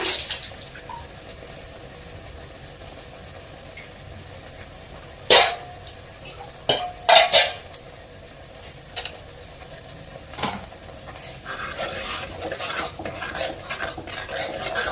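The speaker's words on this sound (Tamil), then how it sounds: "இந்த மசாலா வந்துட்டு நல்லா வதங்கணும்." Ground masala with tamarind fries in oil for a fish curry under a low, steady sizzle, with a few sharp clinks and scrapes from stirring, then denser stirring noise toward the end.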